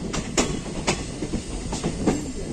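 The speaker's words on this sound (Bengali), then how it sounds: "ট্রেনটা ঢুকে গেল" A passenger train pulls into Malda Town railway station, its wheels giving a rhythmic clickety-clack of sharp metallic knocks over rail joints, steady and fairly close beneath a low rumble, with no talking.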